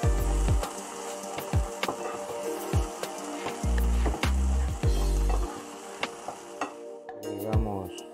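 Garlic and mushrooms sizzling over low heat in a frying pan, a loud continuous crackling fry broken by repeated clattering knocks of a utensil stirring, ending with a brief scrape.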